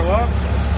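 A Halverson HWP 140B log processor's engine rises in pitch as it throttles up, a loud steady drone with a brief upward sweep at the start.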